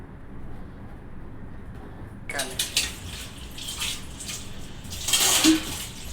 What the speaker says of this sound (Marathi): भांडे धुवून घेतले